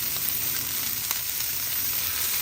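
Onions frying in oil on a Blackstone griddle give a steady, close, loud sizzle with a dense hiss that stays constant throughout, with no voices over it.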